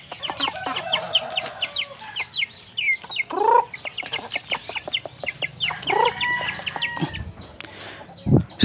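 Chickens fed dried fish or sardines cluck continuously and close by, with dense rapid pecking-like clucks and a couple of longer rising calls, then a few thumps at the end.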